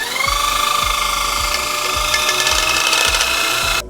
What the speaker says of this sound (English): I use it on the end of the tubes so that I can spin them and clean them